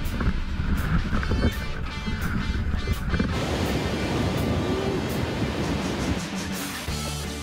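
Ocean waves at a windsurfing spot, a broad, steady wash of surf and wind that swells louder partway through and stays loud and continuous, with no voices.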